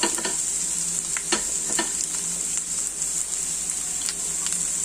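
Sliced onions frying in hot oil with curry leaves, a steady loud sizzle broken by a few sharp stirring scrapes and crackles, with no talking.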